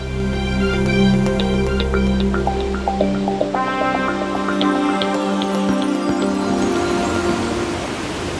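Triple Falls in Arkansas, spring-fed and creek-fed waterfalls, pour with a constant watery rush and scattered drips and splashes, steady throughout at moderate loudness.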